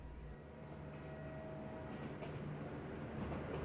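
A distant train gives a low, continuous rumble that swells slightly as it goes on, far off and alone with no voices.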